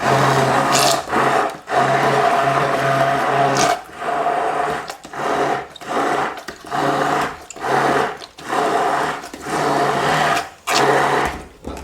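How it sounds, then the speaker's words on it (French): An immersion blender emulsifies a sauce for fried poultry fillets, running loud in repeated whirring pulses of about a second each with brief gaps between them. "L'avantage avec le mixeur plongeant, c'est que ça émulsionne vachement bien."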